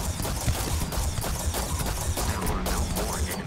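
Rapid, steady gunfire from the Orion weapon in Starfield, a dense run of shots over continuous game action and effects with no pauses.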